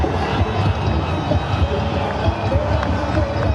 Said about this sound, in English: The roar in the crowd tell you all about that one